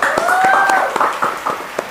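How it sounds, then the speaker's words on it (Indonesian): An audience at an Indonesian talk-show recording gives a short, loud burst of close clapping, with a high whistle ringing over it. "Tepuk tangan lagi saudara-saudara."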